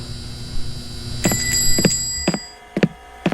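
A car alarm inside a Japanese-style horror video game, steady electronic tones with repeated sharp chirping pulses at irregular intervals, fairly loud and close with no talk.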